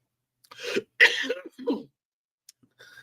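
A few short, close coughs in quick succession, separated by silence, with a faint clearing sound at the end.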